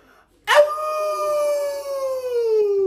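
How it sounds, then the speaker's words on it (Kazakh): A single dog howls loudly and close, one long sustained wail that slowly sinks in pitch after a brief quiet moment. "Ұлыма, Отантай."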